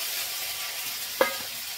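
Fenugreek greens frying in oil with potato and eggplant give a steady, soft sizzle, with one brief sharp clink of a utensil near the end and no talking.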